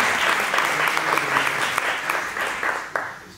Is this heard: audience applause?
yes